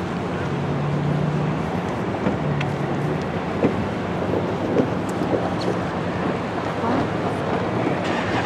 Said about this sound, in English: A lot of people on board that train.